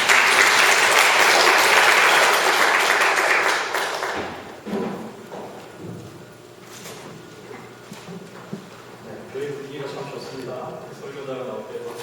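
Church congregation applauding to welcome a preacher to the pulpit, dense clapping at full strength for about four seconds before cutting away to quieter room noise, scattered thumps and talk.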